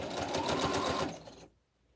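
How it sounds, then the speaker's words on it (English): A sewing machine stitches rag quilt borders in a quick, even mechanical whir of rapid needle strokes, close and loud, then stops abruptly into quiet. "Now that I'm up here on the bed of the sewing machine."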